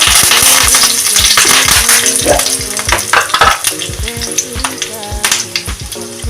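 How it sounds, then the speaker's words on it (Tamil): Mustard seeds crackle and pop rapidly in sizzling hot oil, a loud close hiss dotted with dense sharp clicks and light metallic rattles. "எண்ணெய் சூடானோடனே கடுகு போட்டுக்கலாம்"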